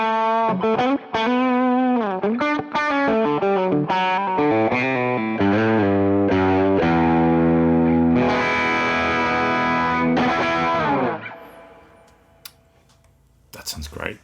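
Electric guitar played through a free diode overdrive pedal in AmpliTube 5 with Fender amp models, sustained distorted notes and chords ringing loudly for about eleven seconds before fading out.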